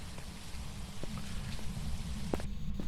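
Quiet rain in Phasmophobia patters as a continuous low hiss, with a few distinct drops ticking against surfaces over a short stretch.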